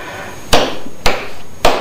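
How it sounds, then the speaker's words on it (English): A hammer taps a pattern onto plywood to set it in place, three sharp, loud knocks about half a second apart, close up with no voices. "Tap it with a hammer so that it sets."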